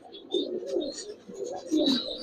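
Giribaz pigeons in a loft give soft, close, repeated cooing calls in short overlapping bursts.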